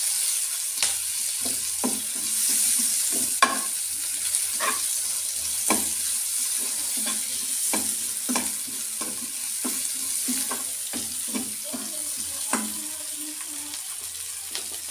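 Two medium tomatoes with green chillies frying in a pan for a paneer dish, sizzling steadily under repeated spoon scrapes and clinks spaced through the stretch, with a faint tap-water trickle in the background.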